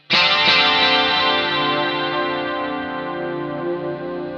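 A single electric guitar chord rings out through a BOSS GT-1 multi-effects unit with compression, striking sharply and then sustaining evenly with a chorus-like shimmer, loud and steady without fading much.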